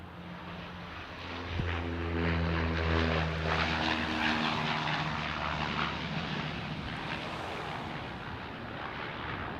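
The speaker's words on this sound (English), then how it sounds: "coming in on runway 25 is Australia's worst airline, Skytrans, coming in from Lord Howe Island." Skytrans propeller plane arriving from Lord Howe Island and landing on runway 25, a loud droning turboprop hum with steady tonal engine notes that swells over a few seconds and then eases off, with no talk.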